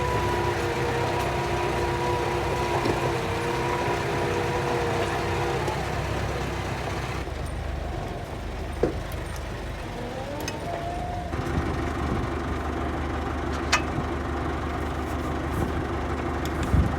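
A tractor hauling a small 3-ton Massey tipping trailer reverses slowly nearby, its engine a steady low drone with slight changes in pitch and a few clanks and knocks, no talk.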